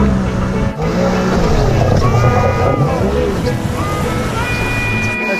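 An old outboard-style engine drives a New Zealand made boat across water, a steady close rumble mixed with water splash and wind buffeting, with someone talking over it.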